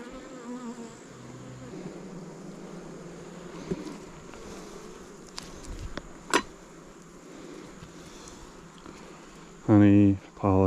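Bees hum steadily around a newly established hive during an inspection holding honey and nectar, a continuous close drone with occasional brief knocks and a loud burst near the end.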